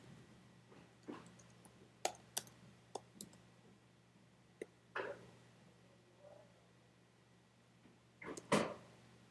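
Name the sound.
typing on a computer keyboard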